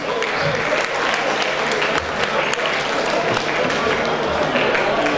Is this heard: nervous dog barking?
no